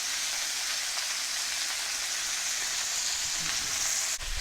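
Cauliflower steak frying in garlic oil in a home kitchen, a steady loud sizzle that holds throughout, ending with a brief clatter.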